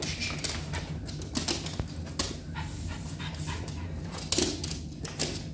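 A three-year-old French Bulldog pants steadily and close up in a home in the US, the rapid breaths mixed with soft clicks and small rustles throughout.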